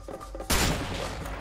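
A sudden loud burst of gunfire in the co-op action game A Way Out, breaking in after a quieter moment and ringing on with a rough, sustained crackle.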